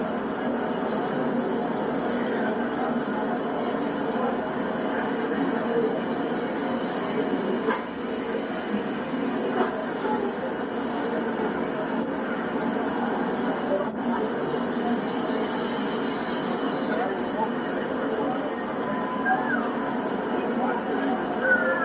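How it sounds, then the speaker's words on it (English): A model German ICE train, two of them, circles a small layout at a train show, giving a steady low rolling rumble and whir throughout, with hall chatter and voices mixed in. "Ah, the German ice train."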